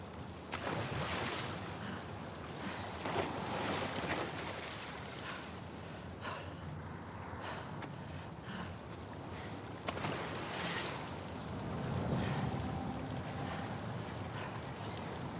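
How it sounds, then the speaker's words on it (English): A fast-flowing torrent of water rushes through the Seattle sewers in the video game The Last of Us Part II, a loud, continuous roar of churning water surging in waves with no speech. "the player was faced with a fast-flowing torrent of water they couldn't cross"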